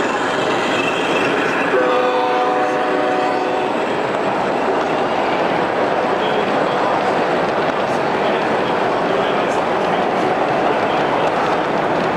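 A large model train runs across a wooden bridge on an expo layout, a steady rolling rumble with a brief horn-like tone near the start, heard through constant crowd chatter.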